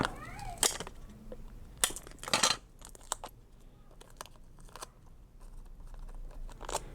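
Tape for a planner being pulled and handled: several sharp, quiet crackling rips and small clicks come in bursts amid near silence.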